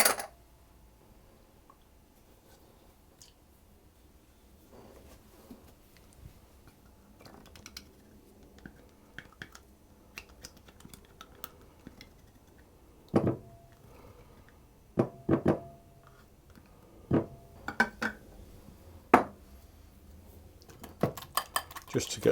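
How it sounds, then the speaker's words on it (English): Eggs, vanilla and buttermilk whisked together in a mixing bowl for malted caramel chocolate chip muffins, giving soft, irregular clinks and taps of a whisk against the bowl, sparse at first and then quicker and louder. "I'm going to put my eggs and my vanilla and my buttermilk, and I'm going to whisk those together."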